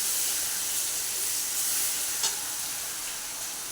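Chopped ginger and garlic fry with already-browned meat in a pan, giving a steady, close sizzling hiss with a brief louder crackle partway through.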